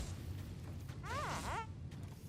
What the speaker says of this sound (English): Squeaky balloon thing.